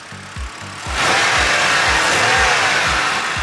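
A BMW E92 engine idles with a steady low pulsing rhythm, then rises into a louder, sustained running roar close by.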